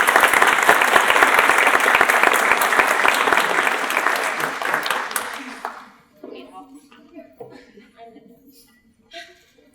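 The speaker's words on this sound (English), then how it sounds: "So let's give them a round of applause." An audience at a kindergarten graduation ceremony breaks into loud, dense applause with some laughter, holding strong for several seconds before fading out into scattered claps and murmuring voices.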